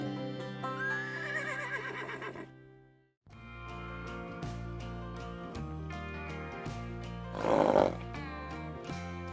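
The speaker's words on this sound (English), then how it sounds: "She is a 12-year-old American paint mare" A paint mare in the Star Stable video game gives a loud whinny, a whinnying call rising and falling over a steady backing music bed, with a brief pause partway through and a burst of noise near the end.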